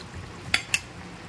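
A spoon knocks twice against a cooking pot while fried eggplant is stirred into a fish curry with potatoes. The two short clinks come close together over a faint background simmer, and no one speaks.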